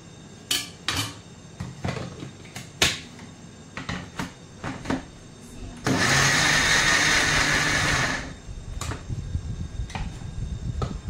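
A kitchen mixer grinder whirs loudly for about two seconds while grinding tender tamarind leaf powder, with clattering clinks and knocks of the jar and utensils before and after the burst.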